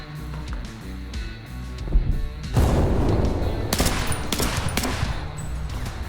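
In an infantry combat video game, a burst of rapid gunfire and sharp impacts follows a low rumbling passage, then a loud close explosion and continued crackling shots.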